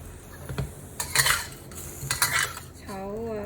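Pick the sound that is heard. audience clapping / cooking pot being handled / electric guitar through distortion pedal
cooking pot being handled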